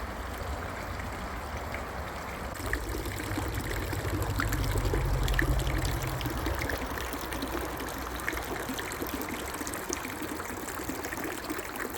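Water trickles and laps around small radio-controlled model boats bobbing on the surface, a steady, continuous wash that runs unbroken for twelve seconds with no voices.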